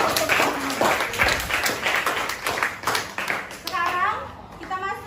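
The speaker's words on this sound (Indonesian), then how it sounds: "Kita kasih tepuk tangan lagi dong." A school class claps hands in a classroom, quick close rhythmic claps that keep going for several seconds, with children's voices mixed in and an adult voice speaking near the end.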